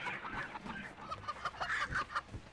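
A chicken in the cartoonish moving game Moving Out clucks in a quick, uneven series of short bursts, fairly soft and alone, with a few sharper squawks toward the end.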